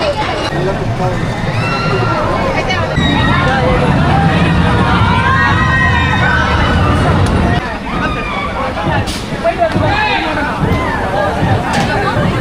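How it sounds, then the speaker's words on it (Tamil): At the MGM Chennai amusement park, a roller coaster rumbles loudly and continuously nearby, mixed with crowd noise and voices talking over the ride. "ரோலர் கோஸ்டர் தான் அது."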